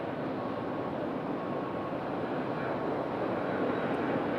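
Delta Airbus A319 jet landing on runway 32 at Raleigh-Durham International, a steady broad engine roar holding at constant loudness throughout, fairly near with no voices over it.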